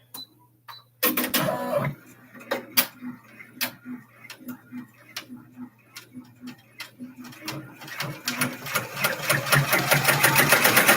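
An embroidery machine stitches glow-in-the-dark thread, a rapid mechanical ticking and clatter that starts up, runs in steady rhythmic bursts and speeds into a dense chatter, close and fairly loud.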